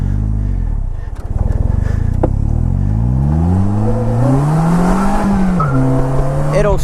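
A Polaris Slingshot's engine revs up as its rear wheel breaks loose and squeals with traction control on, the pitch sweeping and wavering for several seconds, loud and close.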